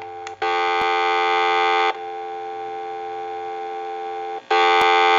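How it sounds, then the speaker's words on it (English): A Western Electric glow phone handset gives a steady, buzzy dial tone that drops in level partway through, then jumps back to full loudness, with two short clicks and no voices. "So we'll go ahead and give you some dial tone, and then I'll turn it up."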